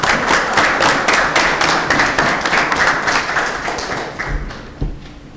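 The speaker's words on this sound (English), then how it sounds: "Need a round of applause for the Anchor Bay Junior ROTC." A room of people at a Chesterfield township board meeting gives a round of applause for a junior ROTC group, dense steady clapping that tapers off near the end, with no talking over it.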